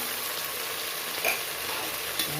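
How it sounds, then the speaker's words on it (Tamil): Tomatoes and ginger-garlic paste sauté in hot oil for chicken biryani, a dense, loud, even sizzle up close with a couple of faint stirring touches. "நல்லா வதக்கிக்கலாம் தக்காளி இந்த மாதிரி கொலையாக வேகணும்"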